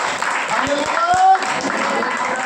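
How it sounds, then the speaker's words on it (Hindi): A church congregation claps together in praise, a steady wash of applause filling the room while a tonal voice or instrument rises briefly above it. "ताली बजाओ मेरे प्रभु के लिए"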